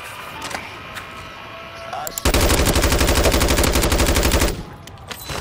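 Rapid automatic bursts from a RAM-9 rifle in the video game Warzone 3, one sustained loud, even-rhythmed stream of shots lasting about two seconds, with quieter game noise before and after.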